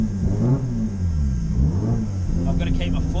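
A Nissan Silvia idles and runs on a light, barely touched throttle, making a low, steady rumble with slight rises in pitch. Someone talks over it close by.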